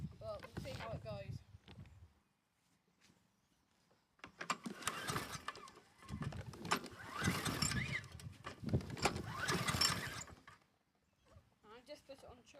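A hard-starting lawnmower engine gets a cold start attempt, with a few seconds of rough, rattling mechanical bursts after a short stretch of talking. The whole scene is fairly quiet.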